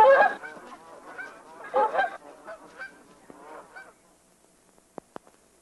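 Several dusky Canada geese honk loudly in a noisy cluster for about four seconds, then fall quiet apart from a couple of faint clicks.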